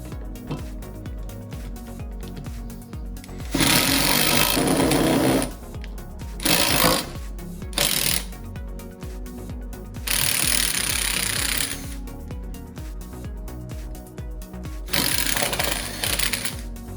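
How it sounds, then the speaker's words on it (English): A power drill with a 13/32 bit whines in several loud bursts of a few seconds each while modifying Camaro brake spindles, separated by quieter pauses with light handling noise. "Next step is going to be the 13/32 drill bit."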